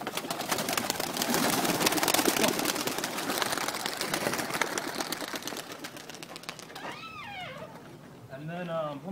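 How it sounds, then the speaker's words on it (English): Pigeons burst out of a kit box in a flurry of flapping wings close by, followed by short cooing and chirping calls near the end. "let me let these birds out"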